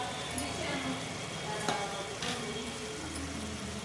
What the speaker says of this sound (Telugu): ఇలా గంటతో తిప్పుకుంటూ మగ్గించుకోవాలి